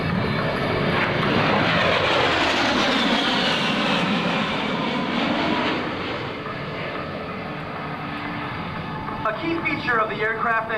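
A Fairchild A-10 Thunderbolt II jet performing at an air show, a loud roaring engine pass with a sweeping whine that fades into a distant rumble, while an announcer speaks over it.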